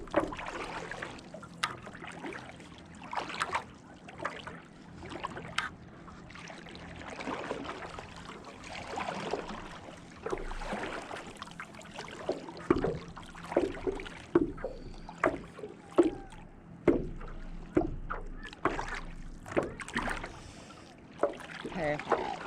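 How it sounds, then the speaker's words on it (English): Paddle boards being paddled on open water during paddle board yoga, with soft rhythmic splashes and dribbles strokes apart under a gentle breeze, joined by talking throughout. "Let's go ahead and paddle back together."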